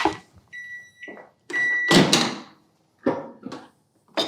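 Microwave oven door clunking open and shut mid-cycle while making homemade jam, with sharp latch clicks, a steady beep tone and a bright mechanical whir, heard as several separate close bursts.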